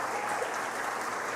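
A church congregation applauds during a sermon, producing a dense, steady wash of clapping throughout a brief moment.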